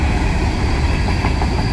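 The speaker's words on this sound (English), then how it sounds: "We start this video off quite unusual with an extra ballast train heading north." An extra ballast train made up of leased Herzog ballast cars heads north on the NS D&H line in New York State. It gives a loud, continuous rumble of wheels on rail with no voices.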